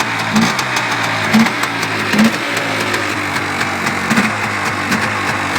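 A Polaris Xplorer 400 ATV engine runs on its own with the choke shut off, a close, steady mid-pitched putter with brief rhythmic surges roughly every second, burning too much oil.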